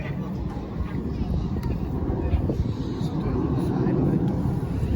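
RAF Red Arrows jets fly a formation display over the Loughshore at an Armed Forces Day event, a continuous distant roar of jet engines with wind rumble and a commentator speaking over it.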